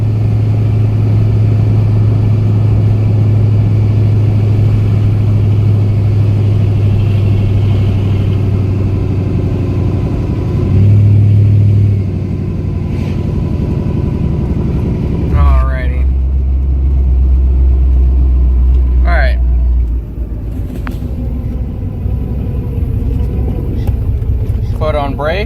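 A car idles and then revs hard at a stop for a burnout, a loud, steady low engine drone swelling in a couple of surges, while someone talks over it.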